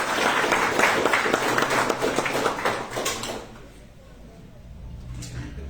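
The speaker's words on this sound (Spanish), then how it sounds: "Brindemos el fuerte aplauso al señor Alex Córdoba." An audience at a speaking contest marking a cantonal anniversary applauds loudly for a few seconds, then the clapping fades into quiet room noise with a few last claps.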